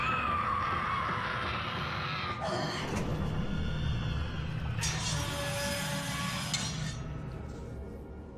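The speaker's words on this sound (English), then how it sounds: "After that incredibly eerie scream" An eerie, drawn-out scream rings through the underwater city of Rapture in the video game BioShock, wavering shrill tones rising over a low rumbling ambience, with sharp glassy accents breaking in twice before fading.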